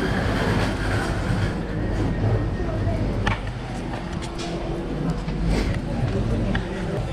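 Constant rumbling and rattling of a moving train carriage in Palermo, Sicily, fill the clip, with clanks and faint voices mixed into the noise.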